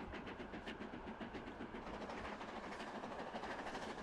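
A train pulls into a station in the rail-building game Transport Fever 2, giving a steady, continuous rumble with faint clickety-clack of wheels, unbroken for the whole stretch and with no talking.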